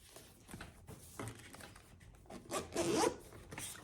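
Zipper on a DJI Osmo Pocket 3 carry case being pulled open, a few short rasping zip strokes that grow louder toward the end, close and alone with no talking.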